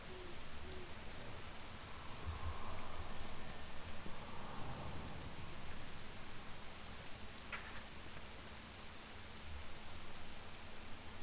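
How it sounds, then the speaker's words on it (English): Steady rain falls in World of Warcraft's Zul'Aman zone, a continuous broadband hiss that stays even and moderately loud through the whole stretch, with a faint low hum underneath and no voices. "Anytime it's raining, I always have to check and see if it's raining here."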